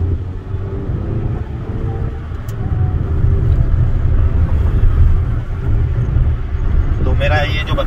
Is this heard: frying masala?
no